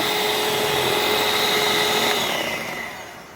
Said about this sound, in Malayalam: ഇവിടെ ഞാൻ എഗ്ഗ് ബീറ്റ് ചെയ്തുകൊണ്ടിരിക്കുന്നത്.